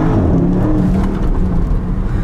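A Porsche Panamera Turbo S, a 680 hp hybrid, driving out of a roundabout, its engine a loud, steady low rumble with heavy road and wind noise and no talking.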